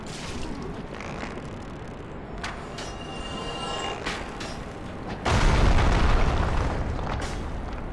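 A loud, deep explosion in Dark Souls Remastered bursts in suddenly partway through, a broad rumbling blast that lingers and slowly fades over continuous game background noise.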